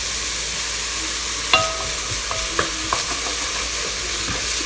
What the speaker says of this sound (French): Je remue quand même parce que je voudrais pas que l'ail accroche